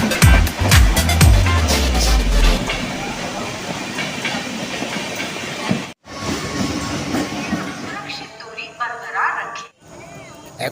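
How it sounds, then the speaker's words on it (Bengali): A Sealdah-to-Lalgola night train pulls out of a platform, loud rumbling and hissing with low horn-like tones early on, the rail noise steady and close before thinning out, with voices talking over it. "আমার ট্রেন 11 নম্বর প্ল্যাটফর্ম থেকে লালগোলার উদ্দেশ্যে রওনা দিল।"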